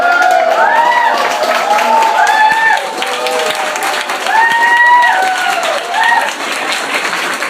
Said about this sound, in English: So everybody claps every time.